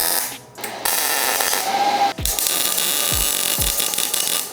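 A steel rear bumper for a fourth-generation Toyota 4Runner is tack welded: sustained crackling hiss from the arc, broken by a few dull low knocks of metal being handled, close and fairly loud.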